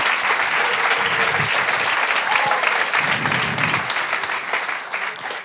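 A church congregation applauds, a sustained, even roar of many hands clapping at close-to-mid distance that holds steady before tapering slightly near the end.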